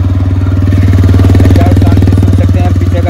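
A TVS Raider 125 motorcycle idles just after starting, its single-cylinder engine putting out a loud, steady, rapid thumping pulse that runs unbroken for the whole stretch, close to the microphone.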